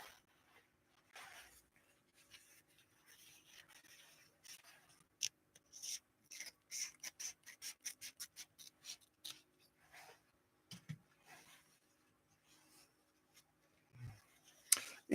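Scissors snip through outdoor fabric in a quick run of short, crisp cuts, faint and close, surrounded by soft rustling and handling of the material.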